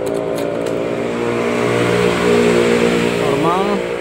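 A Honda Beat scooter engine that has trouble starting, with its check-engine light blinking, runs steadily at idle up close, then rises in a brief rev near the end, with a voice talking over it.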